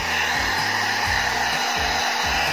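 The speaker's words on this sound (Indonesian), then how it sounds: "Ya udah, ini pakai hair dryer saja." A hair dryer runs steadily at close range, blowing on a computer mainboard during a repair. Its constant airy roar comes with a low motor hum that shifts in pitch every half second or so as the dryer is moved.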